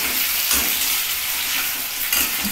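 Diced potatoes frying in oil with kasuri methi, a bright steady sizzle with faint pulsing stirring sounds, close and even from start to finish.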